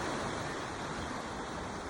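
Ocean surf at Fushan beach in Taitung, Taiwan, a continuous broad wash of breaking waves heard steadily without pauses or voices.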